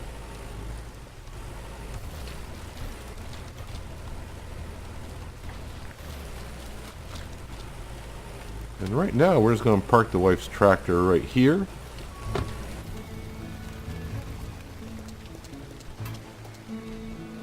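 Steady rain patters in the background throughout the farming video game Farmer's Dynasty while someone speaks briefly partway through.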